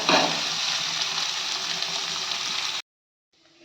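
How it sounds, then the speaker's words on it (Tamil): Onions sizzle steadily in a hot pan, a loud, dense crackle that cuts off abruptly, followed by a moment of near silence. "வெங்காயம் நல்லா வதங்கட்டும்"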